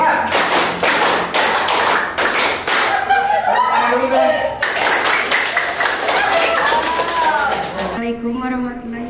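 A classroom of students claps together in a set counted pattern, loud sharp bursts of unison claps with voices chanting and chattering between them.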